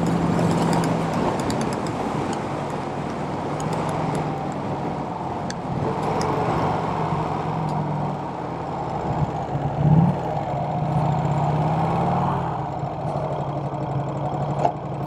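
A 1951 Vincent Rapide motorcycle runs underway on the road, its engine a steady, close rumbling drone with a brief louder bump midway.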